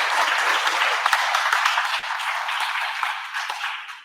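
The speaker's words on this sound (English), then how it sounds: "Please give them a warm round of applause." A crowd claps warmly in a steady, loud burst of applause, many hands blending into a thick patter that carries on without pause.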